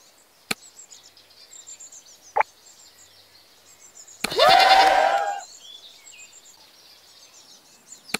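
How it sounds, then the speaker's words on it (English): A single goat in the Zoo 2 Animal Park game lets out one loud, wavering bleat lasting about a second, set against near-silence with a few faint clicks before it. "Buy this goat and place to the goat shed."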